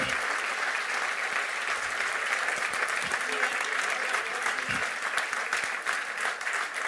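Steady, sustained applause from an audience filling a hall at a New Year's greetings ceremony, dense clapping throughout with a brief voice or cheer surfacing partway.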